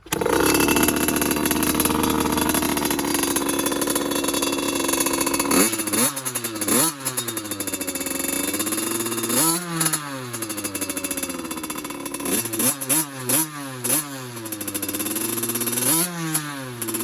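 Cobra CX50 dirt bike engine starting and revving, first a steady loud drone, then a run of sharp rising and falling throttle blips, close and harsh, with no voices.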